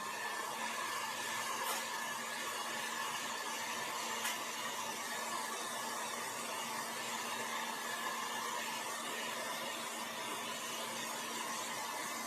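A hair dryer blows steadily on texture paste spread over a mixed-media chopping board, giving a continuous, even whirring hum at moderate distance that runs the whole time without pauses or speech.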